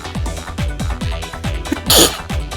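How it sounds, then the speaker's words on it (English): A single sharp, burst-like sneeze erupts near the end, loud and close, following a run of quieter rhythmic sounds. "Sorry, you got to hear my sneeze."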